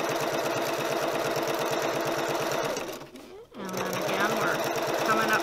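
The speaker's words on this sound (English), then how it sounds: "I just have a space that I just visually follow when I'm doing my top stitching." Sewing machine running steadily while top stitching a tote bag panel, a loud continuous motor whir that cuts out briefly partway through, then resumes with a voice talking over it.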